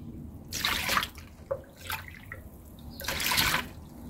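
Water is poured into a cup of pine cleaner mixture in two splashing bursts with small drips between them, close and moderately loud, and no one talks.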